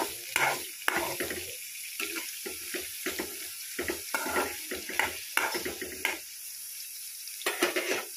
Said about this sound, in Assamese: পিয়াজখিনি অলপ লৰাই দিছোঁ ৰঙচুৱা হৈ লওক বাদামী ৰঙৰ